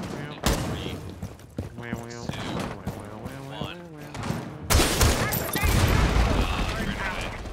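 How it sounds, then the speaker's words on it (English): Grenade blast and gunfire in an online shooter game: scattered shots and mechanical clatter under excited talking, then a loud explosive burst followed by sustained heavy firing. "I'm going to hit him with a grenade"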